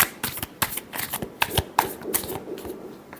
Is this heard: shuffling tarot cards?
yes